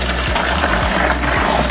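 Water pours steadily into a cooler holding ice for a fish brine, a continuous splashing rush alongside a low pump-like hum.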